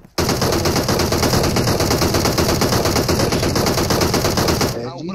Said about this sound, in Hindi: पीछे से फायर आ रहा है